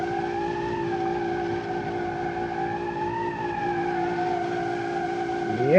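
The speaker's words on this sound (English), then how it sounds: "we are revving the engine to the moon, that's why the turbo is spooling very hard" A car engine in the BeamNG.Drive driving game revs hard and holds at high RPM while the turbo spools with a steady rising whine, loud and continuous, with slight pitch wavers throughout.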